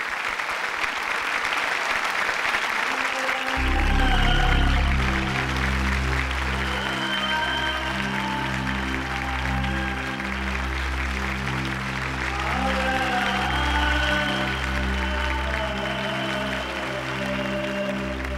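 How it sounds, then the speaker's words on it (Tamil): Audience applause welcoming a singer onto a stage: clapping fills the first few seconds, then music swells in and carries on beneath it. "அவர் உங்க கைத்தட்டல்களோட மேடைக்கு அடிக்குமாறு கேட்டுக்கொள்கிறேன்."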